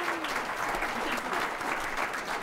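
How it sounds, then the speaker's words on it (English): Applause from the audience at a school board meeting, a sustained dense clatter of many hands clapping at a steady level. "So one more round of applause for these people."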